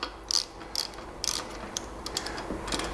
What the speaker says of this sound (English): With your torque wrench set to 13 Newton meters, Shimano reckon 12 to 14 it is, then we need to nip up the pinch bolts.